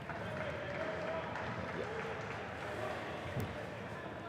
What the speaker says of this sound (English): Good applause as well from the crowd.